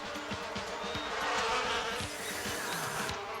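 Cartoon bees buzz in a thick, steady drone with small swells in loudness, filling the scene on their own with no voices over it.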